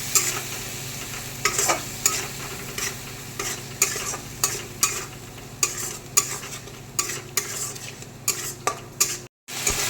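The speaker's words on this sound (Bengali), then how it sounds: "এটা কষাতে থাকবো যতক্ষণ না তেল বেরিয়ে আসে" Spice paste with chilli powder sautéing in oil, stirred in a pan with regular scraping strokes about once a second over a constant sizzle, close by, with a brief dropout near the end.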